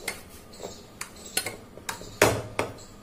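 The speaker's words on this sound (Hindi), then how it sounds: "ये मैं कुकर में ही मैश करने वाली हूँ।" Boiled black chickpeas are mashed inside a pressure cooker, giving a series of separate metallic clinks and taps of the utensil against the pot, spaced irregularly, with no talking.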